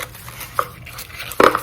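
Plastic lid of a smart heated coffee mug being unpacked from its box, heard as a couple of light knocks and a brief clatter, one small tap then a louder handling rattle near the end, close by.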